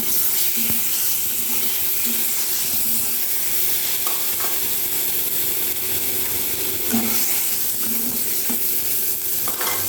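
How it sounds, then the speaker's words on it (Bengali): Eggs fry in a wok with ginger-garlic-onion paste and spices under a constant loud hiss and sizzle, with occasional stirring scrapes and no talk. "তো আমি ডিমগুলোকে কড়াইতে দিয়ে ভেজে নেব।"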